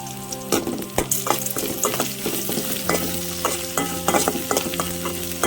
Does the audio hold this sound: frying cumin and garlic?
yes